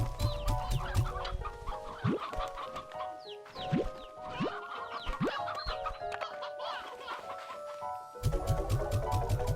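Chickens in the video game Slime Rancher 2 cluck and chatter continuously, with several birds overlapping and occasional sharper squawks, over a low steady background hum.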